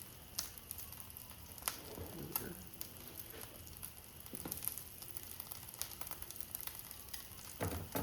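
Ground beef searing in a pan for crispy tacos gives a steady, fairly quiet sizzle with scattered crackles and a few utensil taps, no one speaking.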